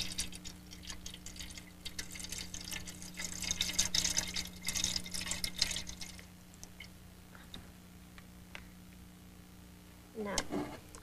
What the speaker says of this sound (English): I put the model into this tank. The water that's pushed out has the same volume as the model.